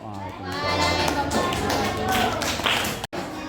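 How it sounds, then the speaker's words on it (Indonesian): A classroom of students applauds after a group presentation, with brisk, even clapping that lasts about three seconds, then a sudden stop as a teacher's voice talks over it. "Kasih aplaus"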